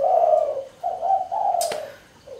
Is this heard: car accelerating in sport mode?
no